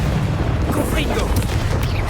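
A Confringo blasting spell explodes in the Hogwarts Legacy video game, a loud, dense low boom that rumbles steadily through the whole stretch with crackling game effects layered on top.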